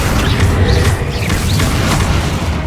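A Bombarda blast spell from the Hogwarts Legacy game erupts in a loud, deep boom with rumbling, crashing debris and whooshing magic over a dense, continuous battle din.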